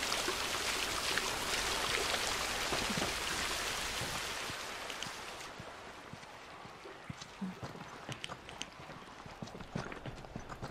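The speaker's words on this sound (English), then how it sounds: "At least we're out of the rain." Rain in The Last of Us video game, a loud hissing downpour that fades after a few seconds into scattered drips and splashes, with occasional sharper knocks.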